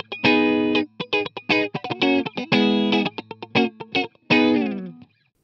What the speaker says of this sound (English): So that's my sort of dry, clean sound with the compressor on.